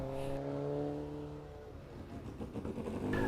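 A vintage Gemini Formula Junior Mark II race car engine hums steadily, then revs up with rapid, rising bursts as it pulls away, loud and close.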